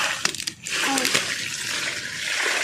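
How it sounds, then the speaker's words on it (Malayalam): Water is poured onto a newly planted sapling outdoors, a few sharp splashes and taps at the start, then a steady hissing flow that continues to the end. "വെള്ളം ഒഴിച്ച് കൊടുക്കുന്നുണ്ട്."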